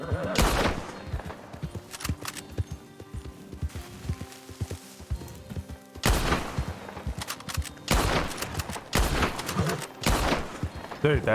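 Bolt-action rifle shots in a Red Dead video game roleplay ring out as loud separate cracks in several clusters, with horse hooves clip-clopping and other noises between them.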